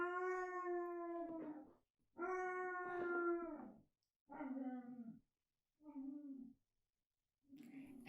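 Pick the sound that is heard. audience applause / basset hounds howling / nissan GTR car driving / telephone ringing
basset hounds howling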